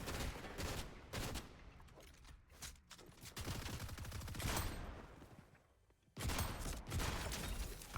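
Rapid bursts of gunfire from the video game Fortnite, dense repeated shots in clusters with brief gaps, loud and close.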